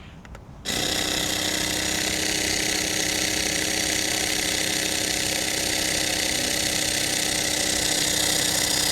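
An electric foam sprayer pump switches on and runs continuously, a loud, close, steady motorized buzz with a broad hiss that holds unchanged for about eight seconds.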